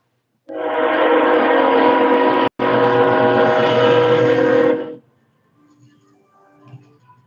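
A train passes close by, its loud, steady rumble and roar lasting about four and a half seconds with a brief break, then cutting off abruptly and leaving faint background sound.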